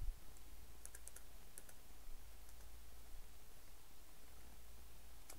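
A computer keyboard tapped in a few short, sparse clusters of light clicks early on, then mostly quiet room hiss with a low hum; no talk.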